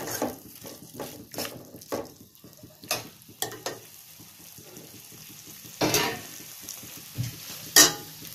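Macaroni being stirred into cooked vegetables in a pan on the stove for an Indian-style vegetarian pasta, with repeated scraping strokes and a steady sizzle underneath, close up and clear, a few sharper clinks near the end.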